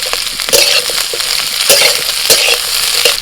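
Onion, capsicum and green chilli stirred in a hot pan, sizzling steadily with repeated scraping strokes of the spoon at close range, no voices.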